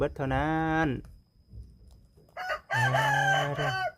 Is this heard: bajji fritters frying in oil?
no